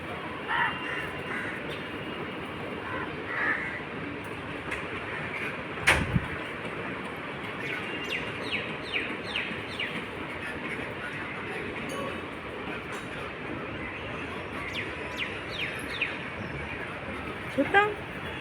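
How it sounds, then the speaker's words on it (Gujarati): Many crows caw repeatedly at a distance over a constant outdoor rumble, with occasional sharp knocks and people talking nearby. "જોતા કેટલા બધા કાગડા એ"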